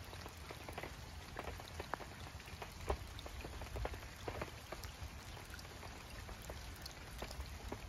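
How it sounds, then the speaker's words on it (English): Cold rain falls steadily at a beaver dam, a soft, continuous patter of drops on surfaces with occasional louder splats, faint and unbroken by any voices. "Nice, cold, rainy Sunday morning."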